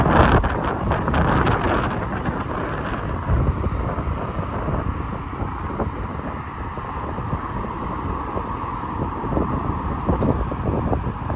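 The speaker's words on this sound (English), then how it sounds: "Whoa, very windy out." Strong gusting wind buffets the microphone outdoors beside busy Rexdale Boulevard, a loud continuous low rumble that swells and eases with passing traffic noise underneath.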